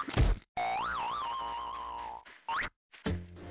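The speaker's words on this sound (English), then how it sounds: "And it'll do a jump sound." A springy, cartoonish boing used as a nextbot jump effect in Garry's Mod, with a wobbling pitch that rises and falls, loud and alone, set between short bursts of other game noise.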